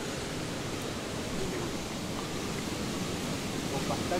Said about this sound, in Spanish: aquí se escucha el sonido del agua, del canal